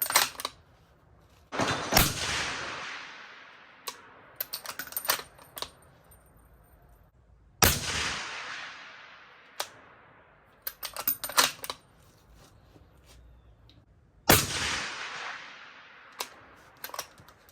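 Cold bore rifle shot from a .308 Winchester firing 110-grain coyote loads, a sharp blast with a decaying tail, followed by further shots at intervals and small mechanical clicks between them, no voices.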